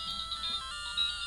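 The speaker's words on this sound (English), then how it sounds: "That's my phone." A phone ringtone sounding faintly in a room, a brief repeating high electronic melody over low background noise, no talking.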